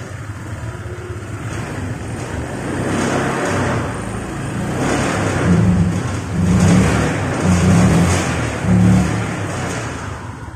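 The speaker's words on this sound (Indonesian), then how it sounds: "Ini motor dinyalakan ya" A motorcycle engine with PGM-FI fuel injection idles and rumbles at close range, rising in a few low surges, with wind buffeting the microphone throughout. The engine fails to rev up.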